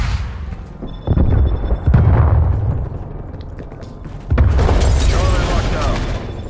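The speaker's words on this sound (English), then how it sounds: "Using flashbang." A flashbang grenade goes off in the Call of Duty: Black Ops Cold War video game. Several loud, heavy booms with broadband blasts and ringing debris tails rise over steady game ambience.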